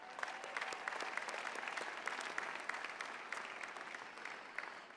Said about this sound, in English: So I say give yourself a great round of applause.